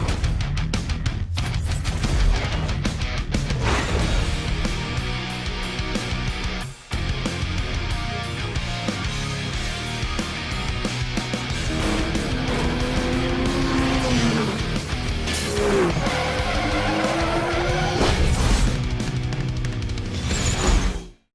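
Toyota Supra in a Need for Speed Most Wanted 2005 cutscene, with a loud, sustained engine roar, turbo whine, revving and tire squeal. A sharp break comes midway, then the engine keeps driving on, with no talk.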